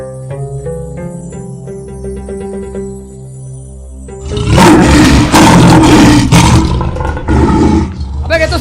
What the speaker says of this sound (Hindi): अबे ये तो शेर की आवाज है सालो।